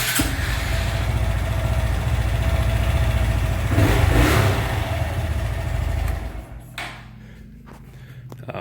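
A small Honda Grom motorcycle engine, not the original engine, revs loudly and steadily up close, peaking briefly, then drops to a lower idle near the end.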